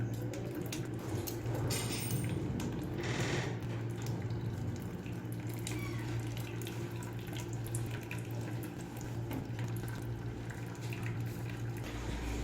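Thick plum sharbat made from aloo bukhara is poured through a kitchen strainer, giving a steady close trickle and splashing of liquid that runs continuously with a few louder gushes.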